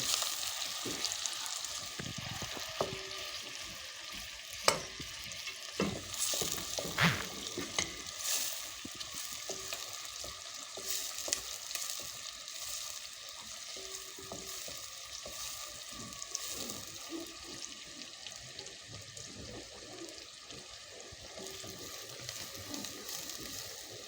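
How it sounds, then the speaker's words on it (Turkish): Onions fry in a pan for maklube rice with a steady, quiet sizzle, broken by occasional stirring clicks and scrapes. Close, with no talking. "Evet soğanımız kavrulurken"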